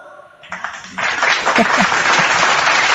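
A church congregation bursts into applause after a moment of voices, the clapping swelling quickly and staying loud and dense, with a few voices beneath.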